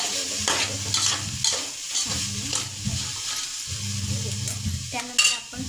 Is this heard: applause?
no